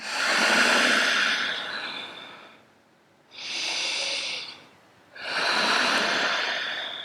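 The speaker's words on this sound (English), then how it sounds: "Deep breath in. Long breath out." Deep breathing in and out during a vinyasa yoga flow: a long breath, then two more, close and airy with clear gaps between them and no talking.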